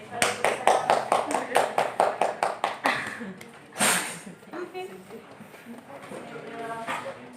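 Debate audience clapping at an English debate final, a run of sharp individual claps for about three seconds, then a brief burst and quieter scattered sound with talk underneath.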